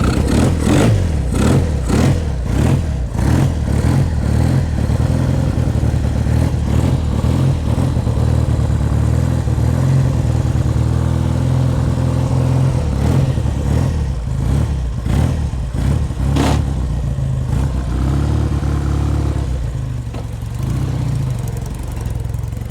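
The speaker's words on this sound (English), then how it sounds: "give it another fire up and go for a ride" A barn-find BSA Golden Flash motorcycle starts up and is ridden, its engine chugging loudly and steadily with repeated rhythmic revs and a brief fade near the end.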